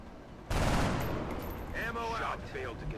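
A burst of automatic gunfire from the XCOM Long War video game erupts abruptly and loud, its rattling blasts fading into echoing reverberation, then a voice speaks briefly over the fading gunfire.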